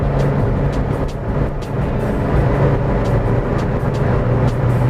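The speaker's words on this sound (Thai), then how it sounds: "วันนี้พามาทดลองขับ Toyota a l t i ิปี 2001นะครับผม" Steady interior road noise from a 2001 Toyota Altis 1.8G on a test drive, a continuous low engine and tyre rumble with a broad even hiss, loud and unbroken throughout, with no talking.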